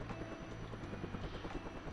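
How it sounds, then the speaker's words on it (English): A helicopter flies in the video game Sim Copter, its rotor giving a steady, close, continuous thrumming chop with a faint engine whine above it and no talking. "We're flying our helicopter in the sky."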